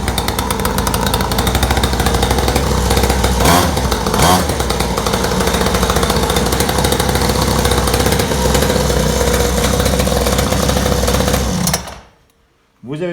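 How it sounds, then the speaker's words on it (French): A two-stroke pocket quad engine runs loud and close, buzzing steadily for about twelve seconds with a couple of brief revs, then cuts out abruptly near the end. "Vous avez pu entendre ce joli petit bruit du deux temps"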